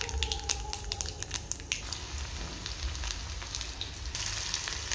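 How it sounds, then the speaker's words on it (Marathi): Cumin and mustard seeds sizzle in hot oil in a kadai, a steady crackling fry with brief sharp pops, close and fairly quiet throughout. "एका कढईमध्ये तेल गरम करायला ठेवलं होतं, त्यामध्ये आपण थोडे जिरे आणि"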